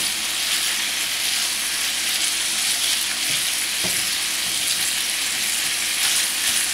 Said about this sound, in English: we can begin to start breaking the sausage up as we're frying it